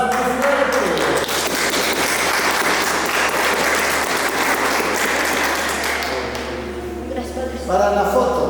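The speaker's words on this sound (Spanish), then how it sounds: "Muchas felicidades y unas palmas muy fuertes" Loud applause from the congregation after a Catholic Mass celebrating a 65th birthday, dense clapping over a low steady hum, tapering off before a voice returns at the end.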